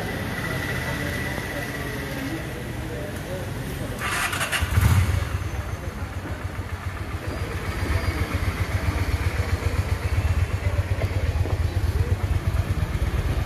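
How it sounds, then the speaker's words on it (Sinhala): A Sri Lankan motorcycle cranks and catches, then settles into a steady, close throbbing idle that continues to the end, with a short burst of noise as it fires and some background voices. "අයියා චුට්ට අපිට ස්ටාර්ට් කරලා පෙන්නන්නකෝ බයික් එක."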